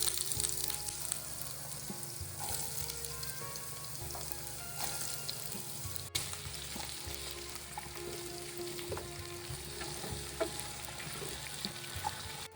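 Potato pieces frying in hot mustard oil with black cumin, a continuous loud sizzle and crackle with occasional stirring scrapes and clinks.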